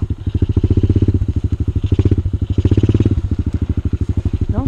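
A small motorcycle engine putters in a fast, steady pulsing throb as it rides over rough ground, loud and close, with light clattering and some brief speech over it.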